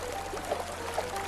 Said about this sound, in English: Can that pipe even handle it? All that influx of water coming from there?